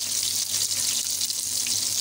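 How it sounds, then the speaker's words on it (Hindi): Chicken hot wings frying in hot oil at home, a steady hissing sizzle that holds at an even, moderate level without pause. "जैसे जैसे हमारे फ्राई हो रहे हैं वैसे वैसे हम इनको निकाल देंगे"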